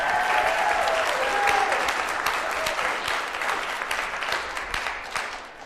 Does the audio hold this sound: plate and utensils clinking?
no